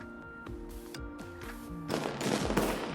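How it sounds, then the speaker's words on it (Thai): Rapid bursts of distant New Year fireworks in the video game Honkai Impact 3 popping and crackling in quick succession, growing denser and louder toward the end. "เมื่อดอกไม้ไฟสาดส่อง ท้องฟ้าจนสว่างสวัยเสียงระเบิดจากที่ไกลๆ ก็สะท้อนเข้ามาถึงหู"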